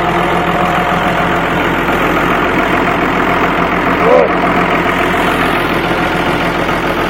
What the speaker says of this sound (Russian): Бульдозер, катерпиллер.